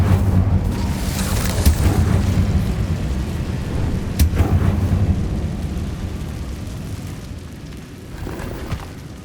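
Incendio fire spell cast in Hogwarts Legacy: a loud, sustained whooshing roar with booming low rumble and a couple of sharper bursts, slowly fading toward the end, no talking.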